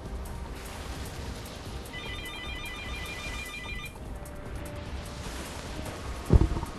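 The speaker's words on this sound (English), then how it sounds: "Mom, the phone's ringing!" A telephone rings inside a house, a short burst of repeated electronic ring tones heard at a distance over steady background noise, followed by a brief thump near the end; no one speaks.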